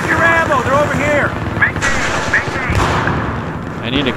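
Automatic M240B machine-gun fire in Battlefield 3 rattles on in bursts over about four seconds, mixed with other in-game battle noise and occasional voices.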